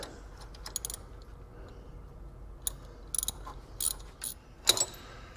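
Bolts being threaded into a Ford Mustang 5.0 harmonic balancer, heard as faint, sporadic ratchet clicks and metallic taps in short clusters over a quiet background hum, with no talk.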